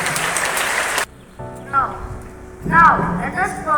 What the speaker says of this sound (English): A big round of applause for all our achievers.